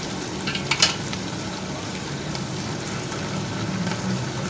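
Garlic and ginger frying in hot oil in a pan for a beef achari dish, a steady soft sizzle throughout with a faint clink near the start.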